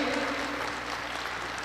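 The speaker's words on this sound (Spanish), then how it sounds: "Dele fuerte el aplauso al Señor" Congregation applauding during a Catholic preacher's service, a dense, continuous wash of clapping from many hands, evenly loud and unbroken through the short stretch.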